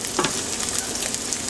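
A sugar and soy sauce mixture simmers and reduces in a pan over medium-low heat, giving a continuous soft, hissing sizzle with a few brief bubbling pops.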